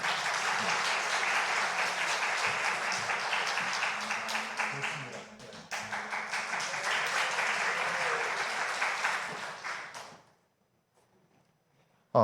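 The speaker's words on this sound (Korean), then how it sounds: "우리 박수 한번 할까요?" A church congregation at a Wednesday service claps together in loud, sustained applause for about ten seconds, briefly dipping midway before fading out to near silence.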